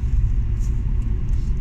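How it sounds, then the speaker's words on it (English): A BMW E46 320i engine pulling through the revs with the Vanos variable valve timing engaging, heard from inside the car as a low, steady rumbling drone, fairly loud with no voices. "Pulling cleanly through the revs, there's the Vanos engaging."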